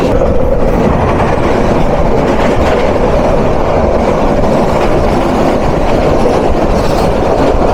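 The 782 Kishoreganj Express rolls along the rails in Bangladesh, a loud, close, continuous rumble with dense rhythmic wheel clatter and no talk.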